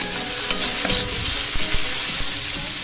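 Onions frying in oil in a home kitchen pan are stirred with a utensil, giving a steady sizzle broken by several scraping, clattering strokes, close and fairly loud with no talking.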